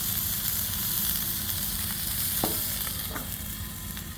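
Burgers sizzling on a hot cast iron griddle, a steady close crackling hiss throughout with a couple of faint scrapes partway through and no talking.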